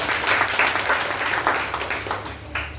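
A church congregation breaks into applause for a young man from UP at a worship gathering, many hands clapping in uneven surging waves that thin out toward the end, moderately loud and without speech.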